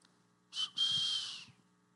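A person whistles to imitate the little whistle from a song, two bright, shrill bursts, a short one then a longer held note of about three-quarters of a second, close and clear over a quiet room.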